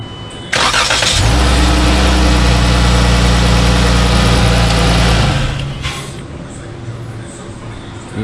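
A car engine fitted with new upper and lower manifolds, an 80mm throttle body and coil packs cranks briefly, catches and runs loudly at a steady idle for about five seconds before winding down, with quiet background noise after.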